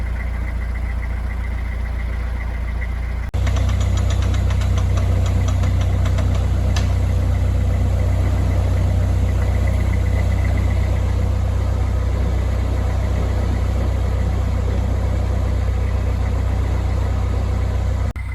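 A narrowboat engine idles at tick over while cruising a canal cut, a steady low diesel thrum with a rhythmic knock that runs unbroken throughout, near and fairly loud.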